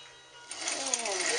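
A vintage Japanese-built Montgomery Wards sewing machine starts up for a straight stitch, its motor whirring up quickly and then holding a steady hum.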